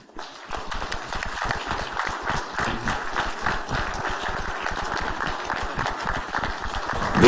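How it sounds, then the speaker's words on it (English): An audience at the official Ghana.Gov launch breaks into sustained, dense applause, many hands clapping together steadily and loudly for several seconds with no pause. "Another round of applause."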